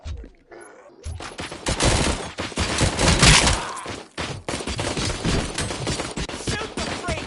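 Dense, rapid gunfire from the video game Robocop Rogue City, loud and close, with overlapping shots and impacts running nearly continuously after a brief quiet start.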